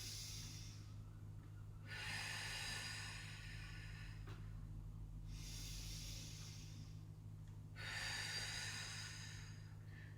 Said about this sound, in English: so that was the breathing that we did